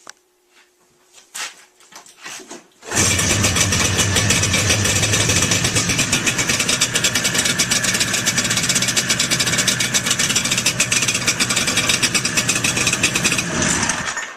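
A vintage snowmobile's Kohler engine catches on a single pull after a few faint handling clicks, then settles into a loud, steady idle that holds near the microphone until the end.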